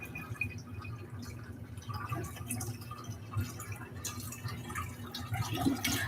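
Filtered water poured in a kitchen makes a soft, continuous trickle and drip, fairly quiet and steady throughout, with faint background hum and no voices.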